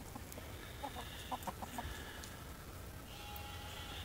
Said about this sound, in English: That rooster and him, I mean, they eat on that like crazy.